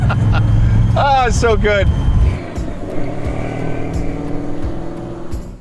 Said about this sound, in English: burnouts just never ever get old